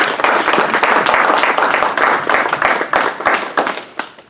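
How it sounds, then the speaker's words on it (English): Audience clapping in a warm round of applause, close and loud, dense rapid claps sustained for several seconds before tapering off. "let's give our brother a warm round of applause."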